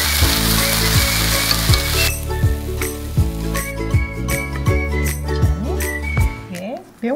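A stir-fry sizzles loudly in a hot pan as seasoning is tossed through it, with rhythmic scraping and clinking of a utensil against the pan.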